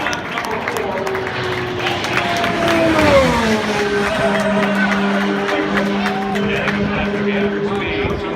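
IndyCar race car on a qualifying run for the checkered flag at Indianapolis Motor Speedway, 2018 pole day: a high engine note rises and falls as the car passes, then sustains, over crowd noise and an announcer talking.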